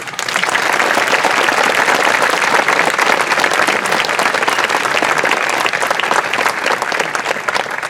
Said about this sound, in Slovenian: Lahko jim zaploskate.